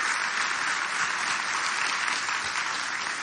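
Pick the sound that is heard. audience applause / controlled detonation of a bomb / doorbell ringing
audience applause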